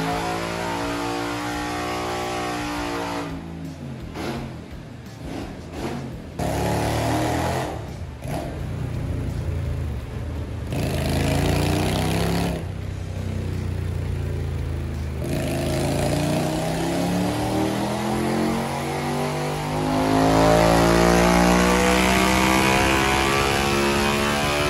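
A Keeway V250FI motorcycle engine runs on a dyno, revving repeatedly: loud, rising and falling engine roars with sharp throttle blips, then a long sustained climb to high revs near the end.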